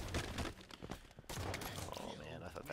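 Gunfire in Halo 5 multiplayer: dense, loud bursts of shots and rapid fire fill the whole stretch, with a player talking over the action.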